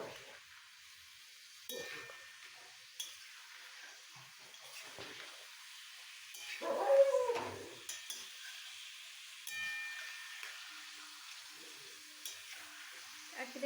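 Onion stalks frying in oil in a pan and being stirred, a faint, low sizzle broken by occasional soft scrapes and clinks of the spoon.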